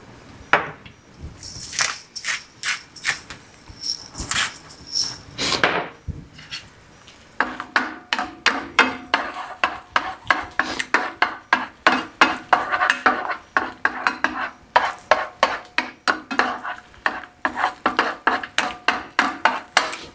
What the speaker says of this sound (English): they're cooking the eggs in front of you and they're scrambling in front of you. So that's what I'm gonna do.